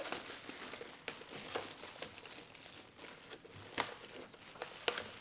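Plastic wrapping is pulled and crinkled off a new Ninja Foodi Hot/Cold Blender, close and fairly quiet, in irregular rustling bursts with a few sharper crackles.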